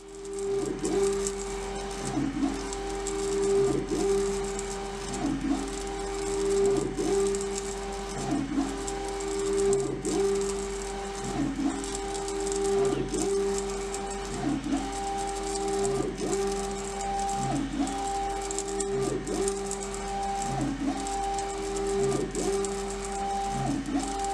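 LogoJET UVx60XL UV printer laying a template onto a table, its print carriage sweeping back and forth in a regular whirring, tonal rhythm roughly every second or two, steady and close with no voices.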